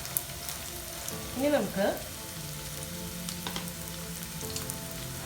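Chopped onion goes into hot oil for a drumstick and potato masala curry, setting off a steady, close sizzle and crackle of frying that carries on under a brief spoken voice.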